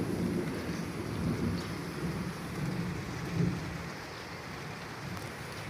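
Heavy rain pours steadily during a thunderstorm with hail and strong wind, a dense continuous roar with low rumbling of thunder swelling underneath and no voices.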